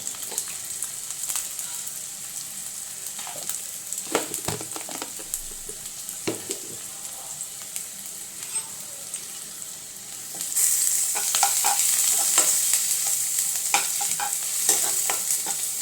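Chillies fry in hot oil in a pan, a close sizzling hiss with frequent scraping and stirring clatter, growing louder toward the end, no voices.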